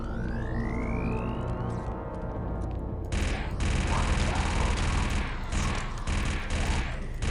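Blaster gunfire in the Star Wars: Republic Commando video game, a rising whine giving way to loud sustained bursts of rapid shots with brief pauses between volleys.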